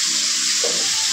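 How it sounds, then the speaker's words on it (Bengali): Water is poured into a pot of cooking dal seasoned with turmeric and green chilli. It makes a brief, close splash and rush that rises over a steady background hiss. "একটু জল দে"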